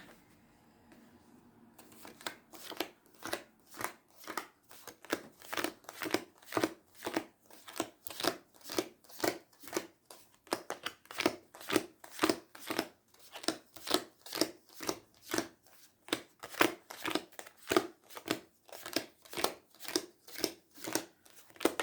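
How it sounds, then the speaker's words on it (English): A deck of cards is shuffled over and over in a steady rapid rhythm of crisp riffling bursts, close and clear with no talk. "You can fast forward this bit if you want because it's just shuffling."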